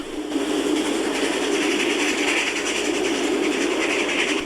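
A steam locomotive climbs a grade toward Thirlmere, New South Wales, rumbling steadily and continuously with a broad, even roar and faint rhythmic clatter, sounding fairly close, with no voices.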